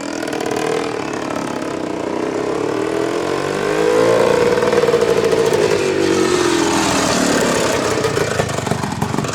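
A 1971 Husqvarna 360 Cross eight-speed motorcycle running loud and close, its engine rising in pitch as it revs and then easing back down, with no talk over it.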